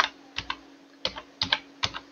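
Keystrokes on a computer keyboard, several crisp clicks in small irregular bursts with short pauses between them, close and isolated over a faint steady hum.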